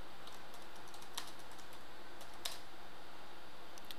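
Light, quiet keystrokes on a computer keyboard during user account setup in mail server software, a few scattered taps over a faint steady background hum, with no voices.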